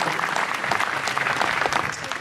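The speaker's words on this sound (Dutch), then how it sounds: "Geef hem maar gelijk een mooie warm applaus." Warm, continuous applause at a jazz evening in a concert hall, honoring double bass player Casper Kalf, with a dense steady patter of clapping from a sizable audience.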